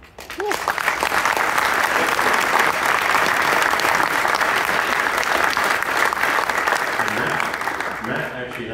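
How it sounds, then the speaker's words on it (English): Sustained, loud applause from a conference audience fills the room almost from the start, dense steady clapping that tapers slightly near the end as a voice begins. "So huge round of applause for them."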